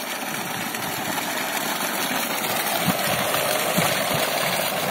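Water gushes in a steady, loud rush from an Oswal solar pump under cloudy skies, alongside a constant mechanical hum, close up and unbroken throughout.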